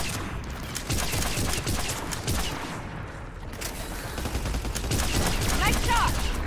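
Rapid, loud bursts of automatic gunfire and overlapping shots fill a Mass Effect 3 firefight, nearly continuous, with a brief lull midway before the firing resumes.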